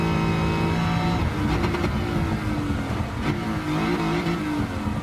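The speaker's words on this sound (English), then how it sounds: "Oh, you can hear the supercharger as well." A supercharged American V8 muscle car in the Gran Turismo 7 racing game revs loudly and continuously, its engine note rising and falling with a supercharger whine layered over the roar, heard alone without talk.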